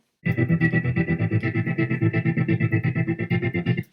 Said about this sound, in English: We've then got a Euroheart synth.